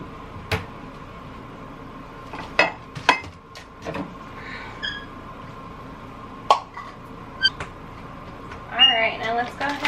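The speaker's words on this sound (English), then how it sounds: "let's get this in a bowl and mix it with some quinoa" Chopped bird food and quinoa get mixed in a bowl, with scattered clinks and scrapes of a utensil against the bowl and a few rustles, close by and with quiet gaps between.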